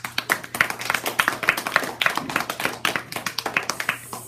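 Modest applause after a school play, with a small audience clapping in uneven, closely spaced bursts and a few distinct nearby hand claps standing out over a faint steady hum.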